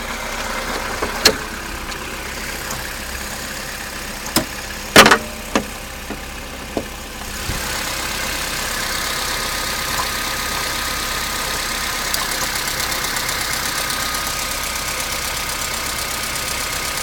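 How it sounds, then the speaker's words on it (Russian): A car engine idling after a cold start, a steady close mechanical hum with a faint rattle, a few sharp knocks and clicks early, then a slightly louder even drone throughout. "Слушаем работу двигателя."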